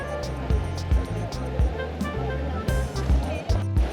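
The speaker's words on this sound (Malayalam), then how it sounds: "പിന്നെ പുഴയിൽ അത്യാവശ്യം നല്ല ഒഴുക്കുണ്ട് കേട്ടോ." Strong rushing water of a fast-flowing river near Kottiyoor temple in Kerala fills the background, with a voice talking over it.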